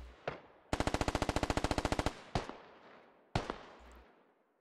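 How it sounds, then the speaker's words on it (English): In the video game SquadOps, a single sharp shot rings out, then a rapid automatic burst of about twenty rounds, followed by several isolated gunshots with echoing decays. "Lagar has ears on the shots coming in."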